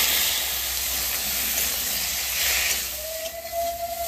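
Eggplant fries in spiced oil with salt and turmeric in a pan, giving a loud, steady sizzling hiss close up that eases slightly near the end, with no voice.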